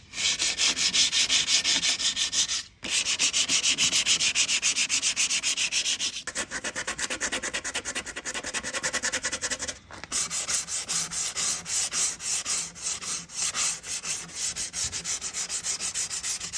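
Steady, rapid scratchy rubbing of sandpaper removing surface rust from a Nissan R34 Skyline's body, loud and close, going almost continuously with a couple of brief pauses.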